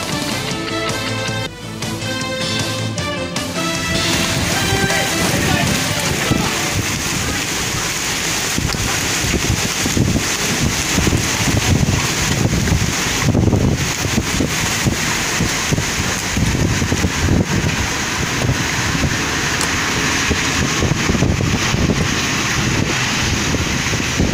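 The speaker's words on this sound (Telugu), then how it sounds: "కాళహస్తి, ఏర్పేడు మండలంలో గాలులతో కూడిన వర్షం కురిసింది." Strong winds drive rain across Srikalahasti and Yerpedu mandal, making a loud, continuous roar of wind and rain that fills the whole stretch without letting up.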